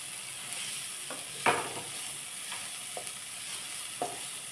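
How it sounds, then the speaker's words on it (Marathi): One large chopped onion stirred in a pan, with a soft steady sizzle broken by a few distinct spatula scrapes and knocks at irregular intervals, no voices. "कांदा ह्याच्यात छान परतून घेऊया आपण।"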